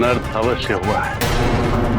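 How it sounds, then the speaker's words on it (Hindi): In a mythological battle scene, Ravana's mace lands with a heavy, booming crash partway through, under and after a voice speaking in Hindi. "ये तो दशानन की गदा की ध्वनि थी स्वामी।"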